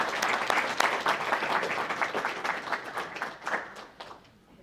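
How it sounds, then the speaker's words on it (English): Applause for faculty members at a sport management summit, a full audience clapping loudly and evenly before thinning out and fading near the end. "So another round of applause for the outstanding faculty members."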